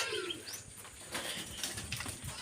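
Pigeons burst into a brief flurry of flapping wings, with faint cooing and bird calls mixed in, close by for a couple of seconds.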